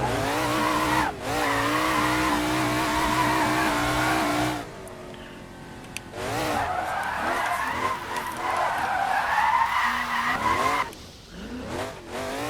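A car drifts along mountain roads in the Assetto Corsa racing game, played with a Meta Quest 3, its engine droning steadily under long, wavering tire squeals that drop out briefly and return, loud and continuous.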